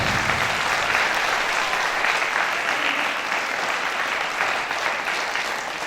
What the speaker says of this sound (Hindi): मैं चाहता हूं कि फिर से हम एक बार प्रभु के दास का जोरदार ताली बजाने को